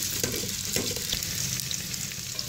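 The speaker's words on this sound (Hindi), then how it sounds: "अब मैं इसके अंदर कटी हुई प्याज ऐड कर दूँगी और प्याज को हम फ्राई कर लेंगे" Chopped onions fry in hot oil over a high flame, producing a continuous dense sizzle with faint stirring scrapes, close and without speech.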